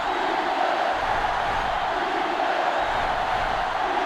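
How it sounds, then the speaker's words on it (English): Stadium crowd roaring in the NCAAF 2005 football video game, a dense, loud and continuous wash of crowd noise that holds steady throughout. "this crowd is going absolutely insane"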